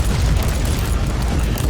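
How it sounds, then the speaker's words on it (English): Grenade explosion in Warhammer 40,000: Inquisitor, a dense, loud rumbling blast with a sustained roar through the short moment, no talking. "the grenade was a very, very great hit overall. Explosions overall."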